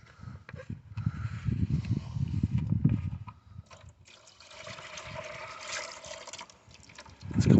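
Coolant glugging and splashing out of a plastic car coolant reservoir after it has been shaken, a close, uneven pour that fades into a thinner trickle before another gush at the end.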